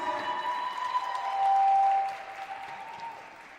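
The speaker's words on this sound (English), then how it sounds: "Ladies, another round of applause," A crowd applauds at a live forum event in Johannesburg. The clapping is moderately faint and swells briefly in the middle, with a thin sustained tone running over it.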